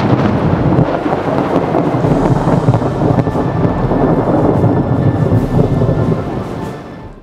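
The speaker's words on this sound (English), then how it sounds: "there's been a thunderstorm that's been forming off of the coast" Heavy rumbling thunder from a severe UK thunderstorm over the coast, a loud continuous low roll with rain and wind buffeting the microphone, slowly fading near the end and with no talking.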